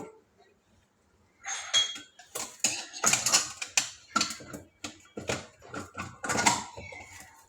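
Metal containers clink and clatter in a quick, uneven series of knocks and scrapes, close by and fairly loud, with no talking.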